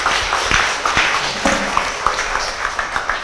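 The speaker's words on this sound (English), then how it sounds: "Shall we give them a round of applause?" An audience applauds a panel at a data science event, a sustained burst of fairly close, loud clapping with scattered sharper hand claps standing out from the dense wash.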